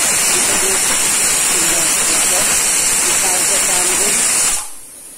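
A pressure cooker hisses steam in a home kitchen, a loud steady broadband hiss that runs continuously, then cuts off abruptly near the end, leaving a quiet background.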